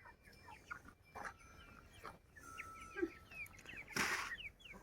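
Chickens eating scattered feed cluck softly with short chirps and calls, quiet and close, with a brief louder rustle near the end.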